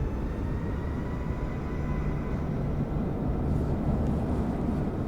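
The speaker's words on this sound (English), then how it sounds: "there's a plane coming out, at least" A plane departing from an airport over Washington DC, a steady low broadband roar of a distant aircraft continuing without pause, with no talk.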